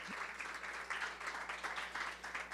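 Audience applause at a literacy symposium rolls on steadily, a dense, moderately loud patter of many hands with no break.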